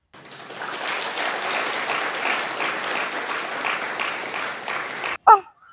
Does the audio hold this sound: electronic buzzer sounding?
no